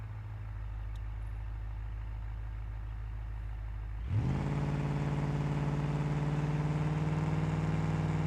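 Engine note in BeamNG.Drive, a German wagon fitted with a big block, holds a steady low idle-like drone under brake pressure, then jumps sharply into a loud, sustained high rev about halfway through.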